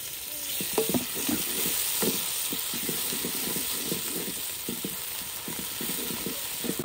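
Tomatoes frying with onion and garlic in a kadhai give off a constant close sizzle, broken by a run of rhythmic clacks from a spoon stirring against the pan.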